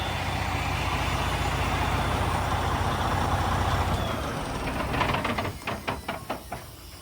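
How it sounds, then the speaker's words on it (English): A semi truck's diesel engine rumbles steadily at close range, then winds down and cuts off, leaving a few sharp clicks and hisses as it goes quiet. "Let me shut the truck off."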